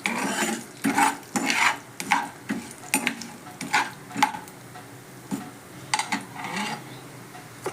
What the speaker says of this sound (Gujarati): હવે આપણે એને હલાવી દઈશું